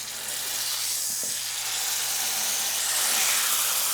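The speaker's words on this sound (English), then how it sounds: "As you can see, this is just searing beautifully." A leg of lamb sears in a hot roasting pan with a steady, broad hissing sizzle that swells slightly toward the end, with no voices.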